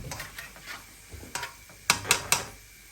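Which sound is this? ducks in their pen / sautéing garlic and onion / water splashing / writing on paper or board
sautéing garlic and onion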